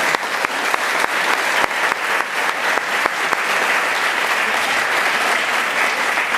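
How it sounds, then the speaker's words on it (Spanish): A hall audience breaks into loud, dense applause honoring visitors from Tenjo, steady clapping from many hands that holds strong throughout without any talk over it. "Démosle un aplauso a la gente de Tenjo."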